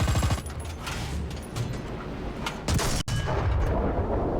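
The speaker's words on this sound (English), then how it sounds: "I shoot at the turret and penetrate." Tank cannon fire and battle explosions from a realistic War Thunder tank battle, with loud booming blasts and dense rumbling gunfire, including one sharp shot partway through.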